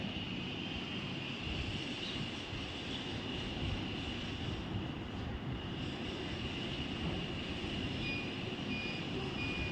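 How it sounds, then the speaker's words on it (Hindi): A weak, steady electric buzzer tone from a simple classroom circuit wired through a pencil's graphite lead, continuous and thin beneath a broad hiss of background noise. "पूरी तरह से बजर नहीं बज पा रहा है लेकिन लाइट जल रहा है"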